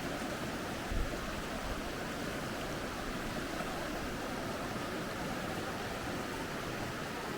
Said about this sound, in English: So this is Bear Creek.